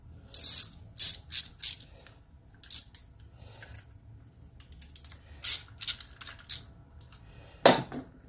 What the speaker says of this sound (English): Let's undo these 2 bolts.